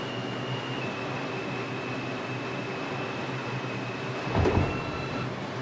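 Interior of an NYC subway R142 car on the 4 train in the Bronx, a steady low rumble and hum with a faint high whine, plus a brief louder clunk near the end.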